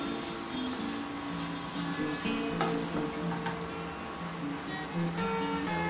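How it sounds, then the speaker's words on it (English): Ingredients for quinoa khichdi sautéing in a pan, a moderate sizzle carrying on steadily with a few light clicks and scrapes from stirring. "Just saute it for some time and wait for it to soften a little."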